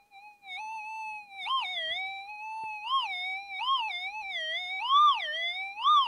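A metal detector gives a sustained electronic tone while sweeping a California roadside, rising and warbling in pitch as it passes over a buried target, loud and close with no talk.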